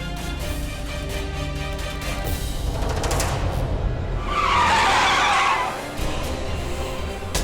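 A car on a potholed road skids with failed brakes, its tires squealing in a loud sustained screech that swells and fades over a background engine rumble.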